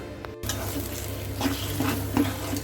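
Banana flower poriyal with toor dal is stirred in a frying pan: a steady sizzle runs throughout while a spoon scrapes and clinks against the pan in a few close, loud strokes.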